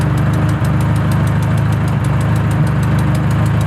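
A car engine idling steadily nearby, a low, even rumble with a faint rhythmic knock that holds unchanged throughout.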